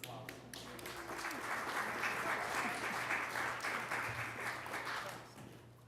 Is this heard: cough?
no